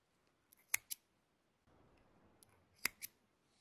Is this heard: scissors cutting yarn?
yes